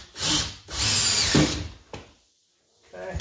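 Power drill driving a screw into a 2x4 wine rack under stairs, two quick whirring bursts close by, then a brief silence before a faint restart.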